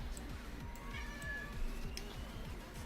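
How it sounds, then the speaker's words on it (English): A pet cat meows softly and drawn-out over a steady, repetitive thumping rhythm in the background. No one speaks. "It's my cat."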